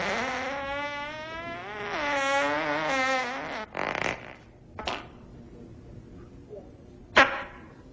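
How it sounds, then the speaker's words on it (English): A drawn-out, wavering fart with a buzzy tone, followed by a few short, sharp puffs spaced apart, close and fairly quiet. "Okay, I'll be honest with you. I did fart."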